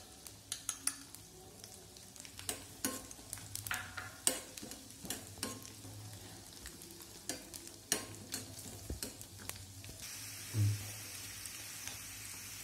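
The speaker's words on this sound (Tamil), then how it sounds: "இப்போ முதல்ல தேங்காய் வறுத்து எடுத்துக்கலாம்." Coconut pieces fry in ghee for a banana payasam, a soft continuous sizzle broken by frequent scraping and clinking stirs of a spoon against the pan.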